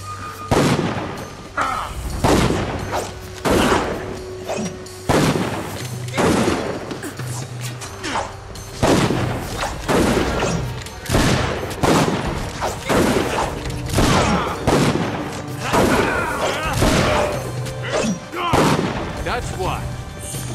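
Gunfire in the fantasy action RPG Dungeon Siege III, a battle against Legionnaires: loud, rapid bursts of shots and heavy impacts crack out in a steady, uneven rhythm for the whole stretch, close and prominent.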